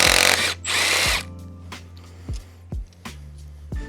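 Power tool loosening bolts on a crank hub of a Nissan VQ35DE engine during teardown: two loud sustained whirring bursts, followed by several short sharp clunks and brief spins, near and alone.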